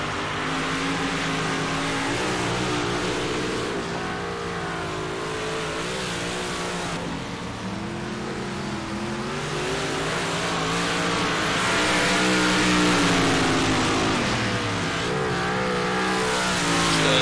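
Big block dirt modified race car engines roar and rev continuously at Williams Grove in the iRacing sim, loud and close with rising and falling pitch as cars accelerate down the straight and lift for the corners.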